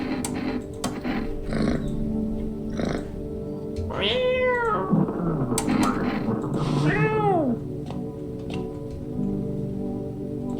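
A cat in the video game No, I'm Not a Human lets out two drawn-out, rising-and-falling meows over a droning game background, with faint clicks and other game sounds around them.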